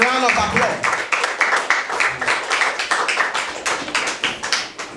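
Applause at a school quiz competition, a dense burst of clapping from a crowd that sustains for several seconds with rhythmic pulses, loud and close.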